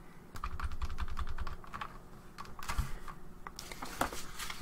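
Keystrokes on a computer keyboard while entering a Linux terminal command, heard as rapid close clicks in uneven bursts separated by short pauses, with no one talking.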